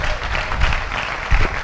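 Audience applause at a college-to-corporate talk at the IMPACT 2013 event, a short burst of dense clapping from a crowd in a hall, loud and close.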